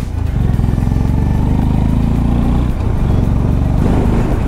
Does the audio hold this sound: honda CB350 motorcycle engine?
yes